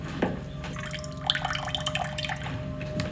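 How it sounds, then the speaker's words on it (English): Cold water running from a kitchen faucet, a faint, weak trickle with scattered drips and splashes, low and uneven in pressure, heard alone. "This is our cold water pressure in the kitchen."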